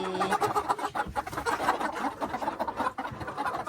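A flock of chickens pecking at grass clucks in a steady, busy murmur, close and moderately loud over rustling outdoor ambience.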